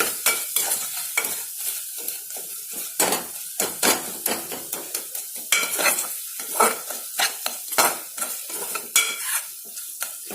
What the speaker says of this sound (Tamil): இப்போ இது எல்லாத்தையும் நல்லா மிக்ஸ் பண்ணி வச்சுக்கோங்க